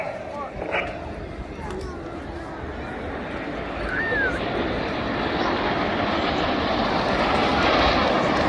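Red Arrows jets at a seaside air show in Clacton-on-Sea, Essex, set up for a head-to-head pass, a broad, steadily swelling roar carrying from a distance while a commentator talks over it.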